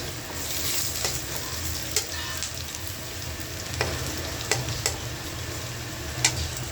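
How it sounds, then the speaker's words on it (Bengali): Potatoes fry in a pan under a steady hiss of sizzling oil, while a spatula stirs them and taps against the pan now and then in sharp, sparse clicks. "আমার আলু ভাজিটা হয়ে গেছে, প্রায় লাল লাল হয়ে গেছে"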